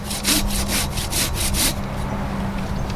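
A Silky Big Boy folding hand saw cuts through wood in seven quick, rhythmic rasping strokes close by, then stops and leaves a low hum.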